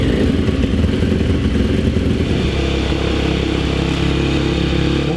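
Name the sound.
motorcycle engine warming up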